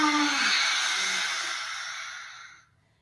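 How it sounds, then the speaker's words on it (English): A long, airy exhale during yoga breathing practice, a soft breathy rush that gradually fades into silence after about two and a half seconds, heard close and alone. "breathing out."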